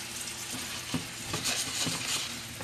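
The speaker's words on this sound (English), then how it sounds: "I'm adding my onions and peppers into the frying pan so they can get good and tender" Vegetables sizzle and crackle steadily in a hot pan, with a few soft stirring scrapes and clinks near the microphone.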